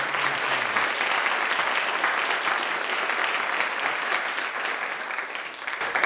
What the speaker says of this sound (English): please give me a round of applause for Vanessa